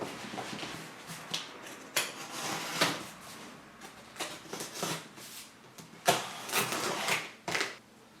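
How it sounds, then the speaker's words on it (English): A craft knife slices open a cardboard box, giving intermittent scraping and tearing strokes with rustling packaging and sharp handling knocks that are clear at close range. "Let me grab our X-Acto knife and then we got started by unboxing this"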